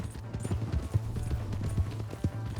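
Rhythmic clip-clop of horse hooves galloping in the video game Red Dead Redemption 2, a steady fast beat close up over a low engine-like hum.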